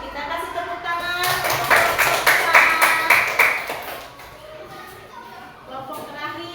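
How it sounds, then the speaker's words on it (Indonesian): Students in a classroom clapping for a group, a loud burst of rhythmic hand claps that swells and then fades into scattered claps, with voices talking around it. "Oke, baik, kita kasih tepuk tangan."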